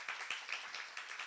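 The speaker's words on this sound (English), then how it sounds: "You can clap. You can clap." A small audience at a ProductTank London talk claps for a speaker. The applause is faint and distant, with sparse, evenly spaced claps that sound like only a handful of people joining in.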